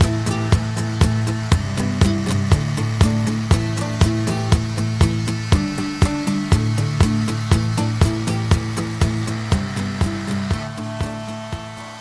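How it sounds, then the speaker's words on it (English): A Maslow CNC router cuts wood parts with a continuous loud motor whine and a regular train of sharp periodic ticks from the machine, steady from start to finish and free of talk. "let's let it just finish up its last couple of cuts"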